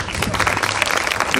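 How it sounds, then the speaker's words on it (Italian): Audience applause at a literary award ceremony greeting the host as she takes the stage, a dense, steady patter of clapping throughout the short span with no pauses. "applauso Chiara"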